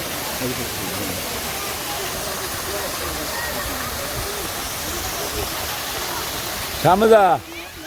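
A waterfall at Himchari hill in Cox's Bazar pours in a steady, close, broadband roar and hiss that fills the whole stretch, with a brief louder burst near the end that may be a voice.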